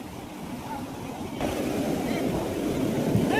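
Sea waves washing in on the sand at Chirala beach, a broad steady surf wash that swells louder midway and keeps rolling, with wind buffeting close to the microphone.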